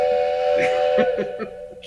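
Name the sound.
voice imitating a whistle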